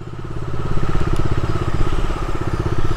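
Bajaj Dominar motorcycle just back from servicing runs close and loud with a rapid, even thumping engine pulse that holds steady throughout.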